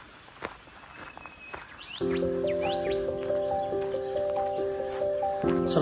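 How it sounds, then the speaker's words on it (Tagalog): Birds call in the fern-filled forest of the Dandenong Ranges along the 1000 Steps Kokoda Track, with quick rising chirps and sustained whistled tones over nearby footsteps on the trail. "Sarap lang huni ng ibon."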